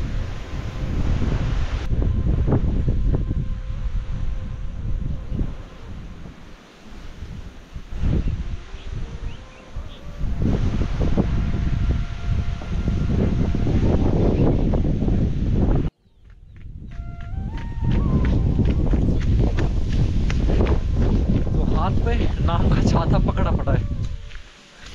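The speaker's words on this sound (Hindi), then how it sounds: "यहाँ तो बहुत ही तेज़ हवा है क्योंकि हमारी इधर का टॉप पॉइंट यहाँ पर है" Strong wind on a hilltop near a tower roars and buffets the microphone in heavy, sustained gusts, briefly dropping out once, while people talk over it.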